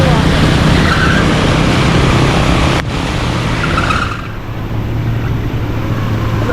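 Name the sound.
car engine revving on a flooded street in Karachi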